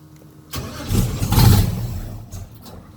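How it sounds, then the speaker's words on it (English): A boat's port motor cranks and tries to start, a loud mechanical churning building from near silence, swelling and then trailing off over a few seconds. "Let's try the port motor this time"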